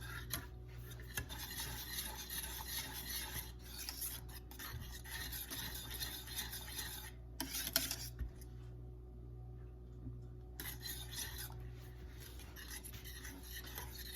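A spoon scrapes the bottom of a pot while stirring a thickening milk mixture for deep-fried milk, making repeated soft rasping strokes that stop briefly midway before resuming, with no talking.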